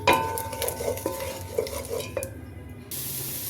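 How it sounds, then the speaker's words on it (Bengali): Garlic paste sizzles as it is sautéed in a pan, with a spoon scraping and tapping rhythmically for a few seconds before the sound cuts out. "বেসিক্যালি রসুনটা আমার সটে হয়ে গেছে।"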